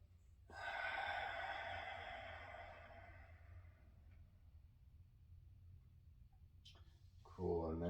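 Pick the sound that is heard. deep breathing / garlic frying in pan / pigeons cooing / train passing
deep breathing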